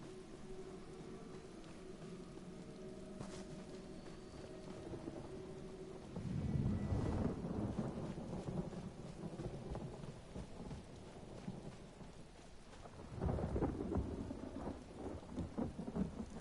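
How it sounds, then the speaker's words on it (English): Thunderstorm in the Elder Scrolls Online game world: steady rain hissing on surfaces throughout, with two heavy rolls of thunder rumbling up loud and then fading, no voices. "Love how accurately timed the thunderstorm sounds are with the actual thunderstorm."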